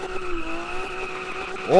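A car in a drifting video game slides with a sustained tire squeal over engine tone, swelling louder at the end as the skid intensifies.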